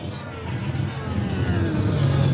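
A Formula 1 car engine in a driving simulator drones steadily and builds slightly in pitch and loudness, a continuous mechanical hum throughout.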